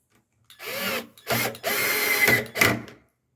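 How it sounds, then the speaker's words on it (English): A power drill whirs in several bursts, starting and stopping, its motor pitch rising and dipping as it bites into material up close while drilling holes to install a doorknob. "while you drill your holes out."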